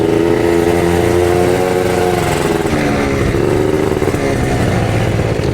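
Rebuilt motorcycle on its first ride, engine droning loud and close with a steady rumble and gently rising and falling pitch as it moves off and pulls through gears, no talk.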